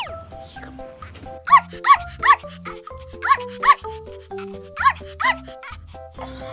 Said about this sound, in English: Oh no, I hear a puppy calling me.